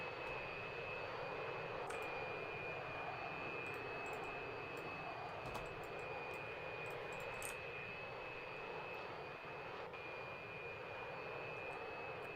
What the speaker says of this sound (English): And now to the Su-33 taxiing to the runway, ready to begin its performance.